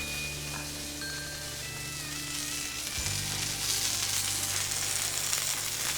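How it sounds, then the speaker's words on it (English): Fresh oil sizzles on a hot outdoor griddle used for cooking steak, a steady close hiss that swells louder partway through and then holds, with no talking. "we can get some fresh oil down"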